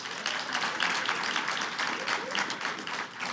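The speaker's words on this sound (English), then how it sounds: "So can we give them a round of applause?" Steady audience applause at a neighborhoods conference hosted by a city department, a dense, continuous wash of many hands clapping close and loud for several seconds with no talk over it.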